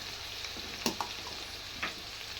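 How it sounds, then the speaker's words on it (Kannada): Green chillies dry-roasting in a pan give a steady low sizzle, with a few soft stirring scrapes and clicks standing out near and clear, and no voices. "ಹಸಿಮೆಣಸಿನ್ಕಾಯಿ ಎಲ್ಲ ಡ್ರೈ ಆಗುವವರೆಗೂ ಹುರ್ಕೋಬೇಕು."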